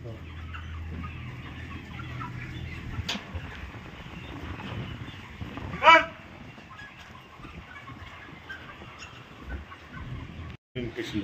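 A flock of about 30,000 chickens on a poultry farm clucks as a dense, steady background din, with conversation over it and one sharp, louder call midway.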